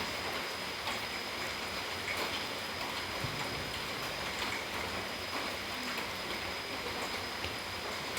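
Steady rain falls during an outdoor Diwali family gathering, a constant, even patter and hiss close by with no talk over it.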